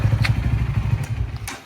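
A motorbike engine runs close by with a steady low pulsing chug for a moment, with faint clatter on top and no talking.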